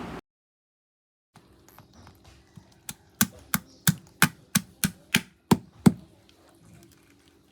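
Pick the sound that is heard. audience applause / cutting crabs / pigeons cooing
cutting crabs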